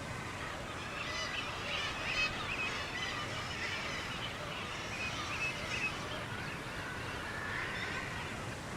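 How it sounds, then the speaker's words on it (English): A sheer sea cliff crowded with breeding guillemots, with weeks-old chicks among them, gives off a dense, unbroken clamour of many overlapping calls that holds steady for the whole stretch. "These guillemot chicks are just a few weeks old."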